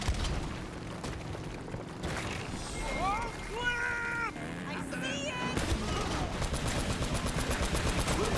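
Gunfire and shotgun blasts in the video game Uncharted: Drake's Fortune, quiet bursts of shots over game music and effects, with a denser run of rapid shots toward the end.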